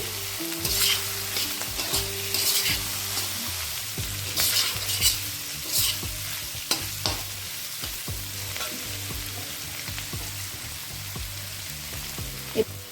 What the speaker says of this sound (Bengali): ডিমটা দিয়েও এর সঙ্গে নেড়ে নিচ্ছি